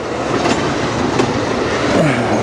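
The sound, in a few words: industrial freight train passing on track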